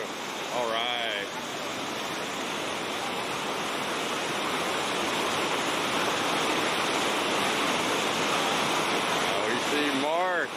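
Roaring river rapids at a big pour over, a loud continuous rush of whitewater throughout, with faint whistles near the start and end.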